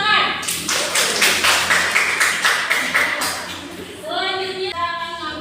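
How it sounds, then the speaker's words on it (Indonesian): A class bursts into applause after a group presentation, a dense run of many hands clapping that fills most of the stretch before fading, with voices talking over the start and the end. "Kasih tepuk tangan."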